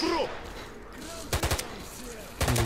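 Gunfire from a house in the video game S.T.A.L.K.E.R. Clear Sky, two sharp bursts of several rapid shots, one mid-clip and another near the end, with someone talking quietly at the start.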